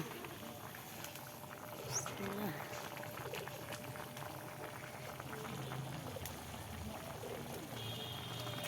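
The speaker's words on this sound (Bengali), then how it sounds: "এই যে তরকারি বলক উঠে গেছে" A pot of curry bubbles steadily at a full boil, a continuous low gurgling simmer close by with faint clinks of the pot.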